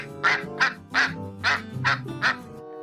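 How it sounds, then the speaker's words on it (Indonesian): Six loud duck quacks in a steady rhythm, close by, with a faint low hum underneath. "Wah, ini bebek."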